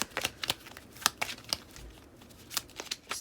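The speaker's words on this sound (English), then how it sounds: "So we're going to go ahead and shuffle the cards and see what we get." A deck of playing cards being shuffled by hand, giving a run of close, crisp riffling bursts and flutters of paper against paper, with brief pauses between them.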